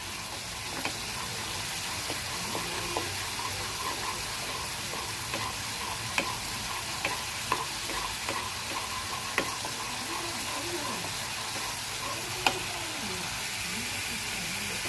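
Onions fry in a pan for a Rui fish (rui macha) dish with a steady, dense sizzle and crackle throughout, close up, broken by occasional light clicks of a spoon against the pan.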